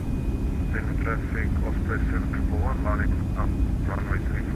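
Steady broad roar of Boeing 757-200 jet engines spooling at takeoff power on the runway in a FlightFactor flight simulator, continuous and loud throughout, with a voice talking over it.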